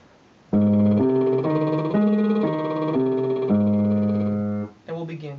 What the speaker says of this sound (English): Sticking with the lip trill, we're going to do an octave arpeggio.